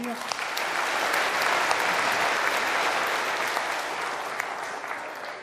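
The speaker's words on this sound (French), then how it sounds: "On peut les applaudir." Steady, sustained applause from a large audience, dense clapping holding at an even level throughout.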